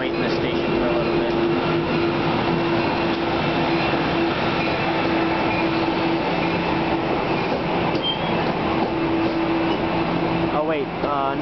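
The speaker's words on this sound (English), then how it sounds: "It's a deadhead train going back to New York." A deadhead passenger train heading back toward New York rolls steadily past a station, a loud continuous rumble of wheels and car noise with a faint tonal hum, near and unbroken throughout.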